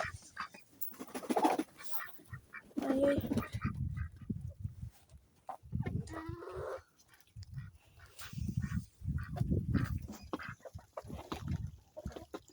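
Outdoor farmyard bird calls, with ducks quacking in bursts near and far, while someone speaks briefly over them.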